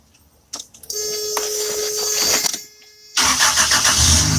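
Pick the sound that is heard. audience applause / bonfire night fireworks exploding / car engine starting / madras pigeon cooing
car engine starting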